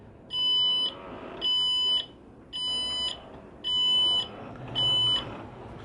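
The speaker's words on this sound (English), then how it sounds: "Now it's beeping at me and it wants me to find neutral." Five evenly spaced electronic beeps from a ZF throttle control at the helm of a Trader 535 Sunliner motor boat, each about half a second long and sharp, sounding alone at a steady rhythm while the gear lever is being set to neutral.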